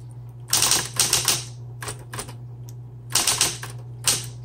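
Fast bursts of keystrokes on a 1960s Smith Corona Coronet Electric 12 typewriter clatter in quick clusters with brief pauses, close and loud over a steady electric hum.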